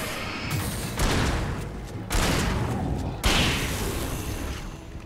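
Three heavy gunshots from Alan Wake, each a loud booming blast followed by a long decaying echo, spaced about a second apart.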